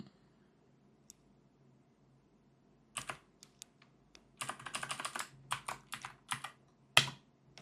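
Someone types on a computer keyboard at a desk, quiet at first, then sharp close bursts of rapid key clicks with short pauses between runs.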